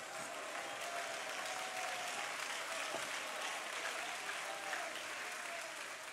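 Sustained applause from a church congregation at a youth week service, dense and steady throughout with no gaps, heard from within the hall.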